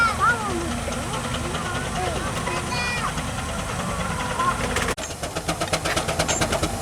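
A full-size steam engine pulls away in a country show arena, its low chuffing and rumbling engine noise close and steady, with loud irregular puffs building near the end, while people talk over it.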